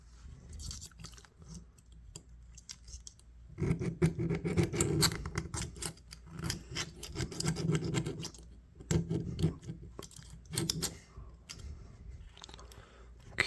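Dirt being scraped out of an old jack knife with a screwdriver tip: close, faint, irregular scratching and gritty scraping in uneven bursts, louder in the middle.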